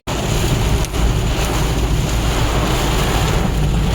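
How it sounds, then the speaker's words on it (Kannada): Heavy rain pounding steadily on a car, a dense, loud, continuous wash of noise with a low rumble, unbroken for the whole stretch with no voices. "ಸಿಕ್ಕಾಪಟ್ಟೆ ಜೋರಾಗಿ ಬರ್ತಾ ಇದೆ ಮಳೆ."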